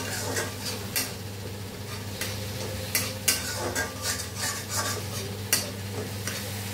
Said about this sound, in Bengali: এবার এগুলো ভালো করে কষাবো, যতক্ষণ তেল না থাকছে ততক্ষণ এটাকে কষাতে হবে।